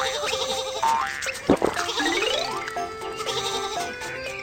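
Cartoon sheep bleat repeatedly on a train track amid playful animated sound effects and boinging tones, bright and busy, with wavering bleats layered over a tune.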